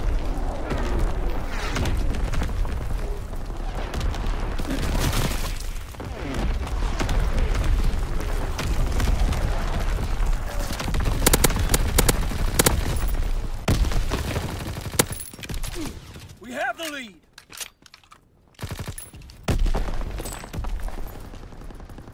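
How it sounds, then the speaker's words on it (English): Enemy artillery barrage in an online team deathmatch shooter game, with a dense run of booming impacts and rattling gunfire, loud and continuous, then a short lull followed by more blasts. "Incoming enemy artillery!"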